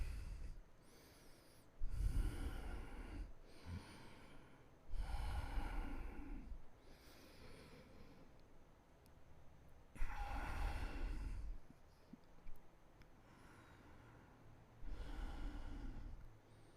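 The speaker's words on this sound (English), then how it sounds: "Seal your lips. Slow down your breathing." Slow, deep breaths during a yoga flow class, each long inhale and exhale swelling and fading in an even rhythm, close and fairly soft with quiet pauses between.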